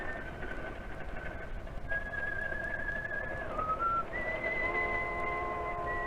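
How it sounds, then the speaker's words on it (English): A man whistles a tune in long held notes that step up and down in pitch, fairly clear and close over a low, steady background hiss, with no talking. "He'd whistled that tune of his for the last time."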